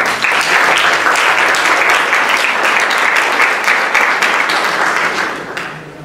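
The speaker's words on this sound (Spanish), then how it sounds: "Entonces yo invito al doctor Marco a que pase, por favor, con un fuerte aplauso" Strong applause from a crowd at a youth science forum as a guest speaker is welcomed, dense and steady for about five seconds before fading away at the end.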